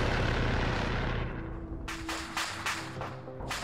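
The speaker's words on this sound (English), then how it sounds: "Oh, that's still the chopper cooking off." Burning helicopter wreck cooking off in a game, a loud rumbling roar that fades, followed by a rapid series of sharp popping bursts, with no talk.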